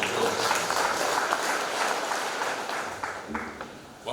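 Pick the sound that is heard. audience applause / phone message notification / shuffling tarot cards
audience applause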